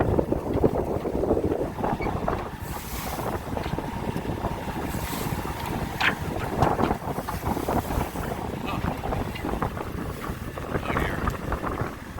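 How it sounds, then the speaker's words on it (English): A 1980 C30 sailboat pitching through big, rough seas, with loud, constant wind buffeting the microphone over rushing water along the hull and waves surging around it. "These are some big bad seas."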